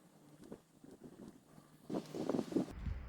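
Gusting wind buffets the microphone outdoors while a pipe is smoked, a low rough rumble that swells and grows louder toward the end, with faint rustling underneath and no talking.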